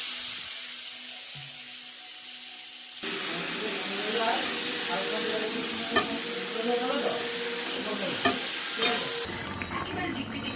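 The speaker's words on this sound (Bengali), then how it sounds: "ছোলা আর আলু তেলের মধ্যে দিয়ে দেবো। দেখো তেল হয়ে গেছে, দিয়ে দিলাম।" Chickpeas and potatoes dropped into hot oil for a cucumber curry, a loud bubbling sizzle that starts suddenly and stays close, with clinks and stirring, after a quieter stretch with a faint voice.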